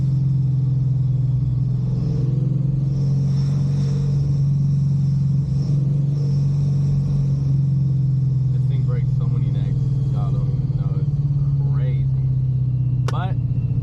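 A loud, deep Paxton-supercharged 5.0 V8 Mustang engine rumbles steadily up close with a throaty low drone, while a voice is faintly audible near the end.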